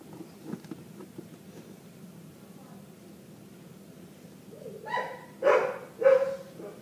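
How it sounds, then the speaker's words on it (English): A dog barks nearby in a short cluster of three loud barks after several seconds of quiet room noise, with a couple of faint earlier yips. "And the dog barks."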